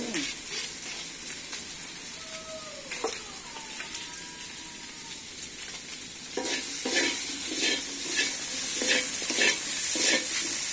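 Potatoes fry and sizzle in oil with spices while being stirred, a steady crackling hiss with scraping stir strokes that grows louder and busier toward the end.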